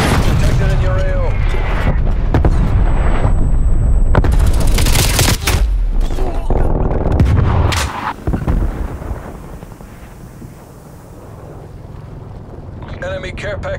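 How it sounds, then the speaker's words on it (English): Incoming artillery in Call of Duty Cold War multiplayer on the Hijacked map: loud deep booming blasts and rumbling impacts over several seconds, easing into quieter wind-like ambience, with a radio announcer voice over the top. "Hostile artillery targeting active. Net call. Incoming artillery."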